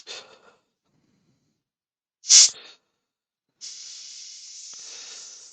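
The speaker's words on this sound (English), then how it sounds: "the art is not to have the air gun turned up too high" Air gun spraying paint onto a woodturning piece, a short burst of hiss followed after a pause by a longer steady spray, close and alone.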